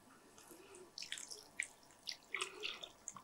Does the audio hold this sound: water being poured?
yes